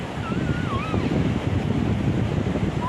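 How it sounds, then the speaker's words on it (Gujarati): Steady rushing surf and wind noise at a Gujarat seashore near Khimeshwar Mahadev temple, a continuous broad roar of waves without any break, with faint whistling tones over it. "અમે બધા અત્યારે અહીંયા દરિયા આવ્યા છે"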